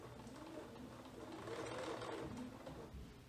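A domestic sewing machine runs continuously, stitching a straight line across garment fabric for a Vogue 9057 pattern, with a steady close whirring motor and rapid needle clatter throughout.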